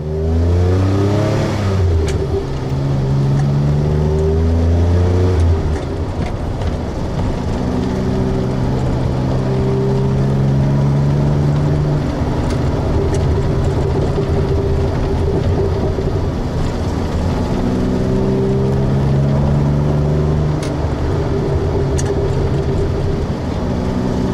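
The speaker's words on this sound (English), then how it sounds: "nice high first and second gear means you can pop along, pull away quite quickly and get yourself cruising along at a reasonable pace" A 1981 DeLorean DMC-12 drives along with its rear-mounted engine, loud and close, revving up and easing off through gear changes in repeated rising pulls over a constant road rumble.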